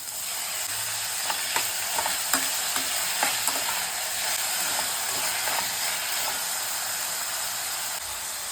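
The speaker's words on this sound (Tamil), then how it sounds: "இப்போ குடமிளகா போடுறேன். இப்போ தக்காளி போடுறேன்." Chopped capsicum and tomato fry in a hot pan, a steady loud sizzle running throughout with soft scraping stirs and occasional ladle taps, and no talking.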